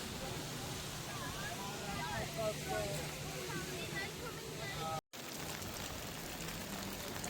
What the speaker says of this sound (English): It rained heavily.